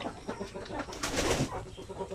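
A large Shamo Aseel rooster of about four kilograms gives off soft clucks and low chicken calls close by, scattered and irregular over a faint background.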